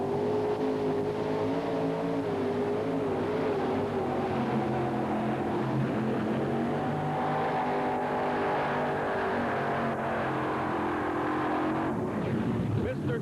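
A pulling tractor powered by an Allison aircraft engine roars at a 1990 tractor pulling event, a loud sustained engine drone with shifting pitch as the throttle is worked, while an announcer talks over it throughout.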